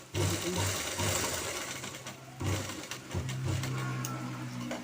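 A sewing machine stitches fabric for a woman's top, running in steady bursts with a short pause midway, then resuming with a strong continuous whir close by.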